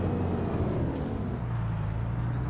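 A truck engine in Farming Simulator 22 rumbles steadily at low pitch with no turbo sound, with a brief hiss partway through, continuous and fairly close.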